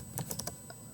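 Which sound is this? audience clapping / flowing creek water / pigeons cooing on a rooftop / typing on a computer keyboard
typing on a computer keyboard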